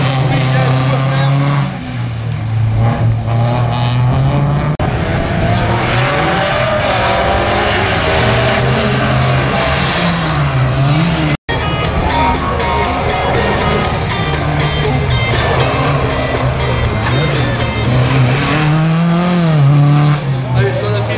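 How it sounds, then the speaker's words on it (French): A race car revs and pulls away on a slalom course at Saint-Lô, its engine note rising and falling steadily and loud throughout, with a public-address commentator talking over it. "Le 63 également, le Arnaud Piard vient de s'élancer"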